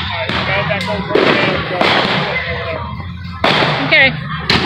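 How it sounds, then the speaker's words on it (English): Fireworks burst repeatedly at a park, several sharp cracks and booms at irregular intervals, close and loud, with crowd voices and talk underneath. "Fireworks behind us. There's fireworks everywhere."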